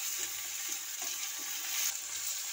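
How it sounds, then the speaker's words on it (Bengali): Garlic and ginger paste frying with tomato in a pan for a Bengali fish curry, giving a soft, steady sizzle with a few light stirring scrapes, fairly quiet and with no talking. "রসুনটাকে ভেজে নিতে হবে ভালো করে।"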